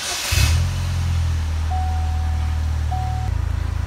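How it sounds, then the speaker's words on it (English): Car engine cranking and catching: a short burst of starter noise, then a steady low idle with a brief warning chime twice over it, and the idle settling into a rhythmic pulse at the end. "Let me go ahead and get the car started."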